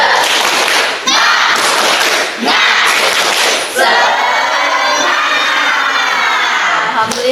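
A classroom of students performs a loud group clapping chant, with bursts of rhythmic clapping and shouted voices in unison that rise and break off, then a long sustained collective shout.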